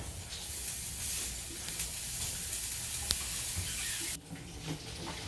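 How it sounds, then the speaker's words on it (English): Lemon zest, garlic and breadcrumbs fry in a pan while being stirred, a close, steady broadband sizzle and hiss with a few small spits that drops off sharply near the end. "after you cook your lemon zest, breadcrumbs, and garlic, which you cook them until they're brown"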